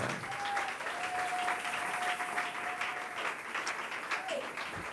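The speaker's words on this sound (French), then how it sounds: "Est-ce qu'on peut bien acclamer le Seigneur?" A church congregation applauds to acclaim the Lord during a morning service, steady dense clapping throughout with a faint sustained tone running beneath it.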